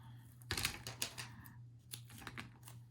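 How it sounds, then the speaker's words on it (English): Teflon scissors trimming material at the edges, a few quick close snips and rustles, faint and brief. "So let's get the Teflon scissors out."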